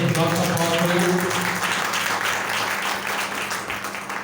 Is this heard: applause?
yes